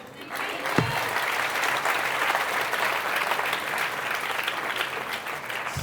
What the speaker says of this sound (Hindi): सबसे ज्यादा तालियां सरपंच साहब के लिए बजाओ।